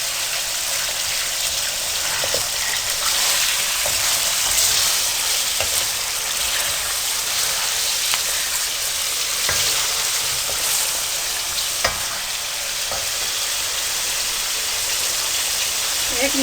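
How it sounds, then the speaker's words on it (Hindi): Chicken karahi fries in a pan at a Saddar, Rawalpindi food street, giving a dense, continuous hiss and crackle of sizzling oil, close and loud, with occasional scraping stirs. "आगे अच्छी तरह से सारे को उलट करके आप 1 मिनट के लिए पका लें इसको।"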